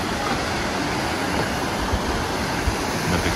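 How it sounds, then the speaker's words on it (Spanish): Small waterfall in Oidaira Park in Toyota, Aichi, Japan, near a river and suspension bridge: a steady, dense rushing wash of falling water with faint low thumps, continuous and fairly close. "una pequeña catarata ahí"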